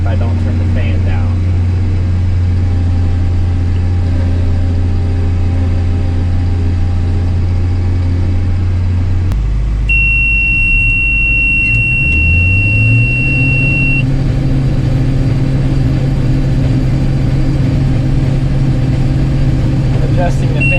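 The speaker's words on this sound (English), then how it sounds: "Adjusting the fan right down to 700 RPM right now." A combine harvester works an oat harvest with its cleaning fan turned down to 700 RPM, a steady loud engine drone that drops and shifts pitch partway through, with a brief electronic beep and talk over it.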